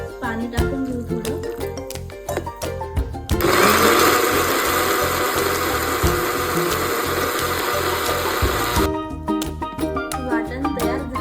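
A mixer grinder grinds misal masala paste of roasted onion, roasted coconut, ginger, garlic and coriander with a little water, a loud steady whirring roar lasting about five seconds, with softer clattering sounds before and after.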